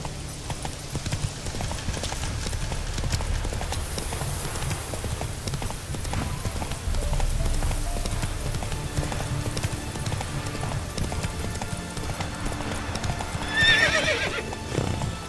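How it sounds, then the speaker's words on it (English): Horse hooves clip-clopping and galloping in The Witcher 3: Hearts of Stone, a steady rhythmic trot with neighs and whinnies over game ambience and music, close and continuous. "Get on the horse, girl."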